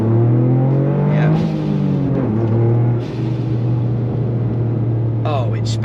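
A Toyota GR Yaris engine drops through downshifts while cornering, its loud in-cabin drone dipping and rising in pitch with audible rev changes, a brief lull and another gear change later.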